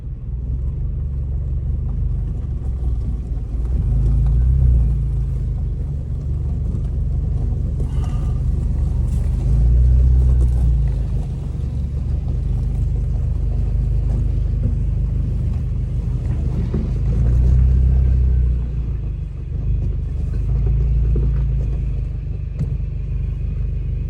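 A car with a newly replaced clutch reverses and then drives off, making a loud, steady low engine and road rumble from inside the cabin that swells gently several times.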